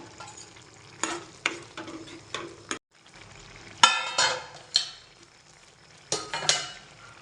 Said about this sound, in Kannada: ಇವಾಗ ಕುದೀತಾ ಇದೆ. ಇದಕ್ಕೆ ಕಾಜು ಹಾಕ್ಕೊಳ್ತಾ ಇದ್ದೀನಿ,